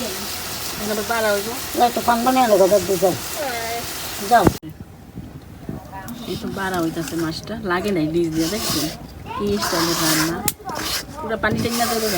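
Fish simmering in a spiced curry in a pan gives a steady sizzle and bubble, mostly under continuous conversation with a short clatter midway.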